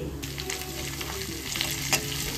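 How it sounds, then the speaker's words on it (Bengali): Flattened rice pulao frying with curry leaves in a pan, a continuous close sizzle with scraping stirs and a couple of sharper clinks near the end, no talking. "কারি পাতা দিয়ে মা"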